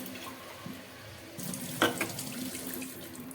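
Water runs from a kitchen tap for kneading thepla dough, a faint hiss that swells into a fuller splashing stream halfway through, close by with no talking.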